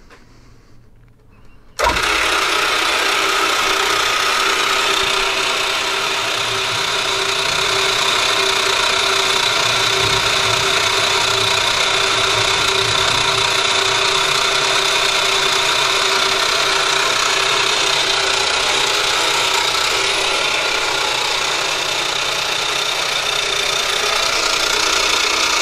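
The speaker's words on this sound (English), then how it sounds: "this is a gearhead milling machine, so it's a little bit loud" A gearhead milling machine starts up abruptly after a short quiet moment, then runs with a loud, steady mechanical drone and gear whine for the rest of the clip, with no talk.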